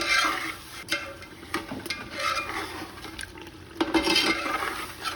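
One kilogram of beef frying in masala over a medium-high flame, with steady sizzling and intermittent stirring scrapes against the pot, close and fairly loud with no talk.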